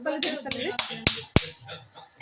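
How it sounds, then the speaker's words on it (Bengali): Hands clap at home around a small child, giving about five sharp, close claps in quick succession with voices talking around them. "হাততালি দাও"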